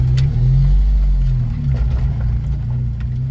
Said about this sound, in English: So I'm riding in the Jeep now.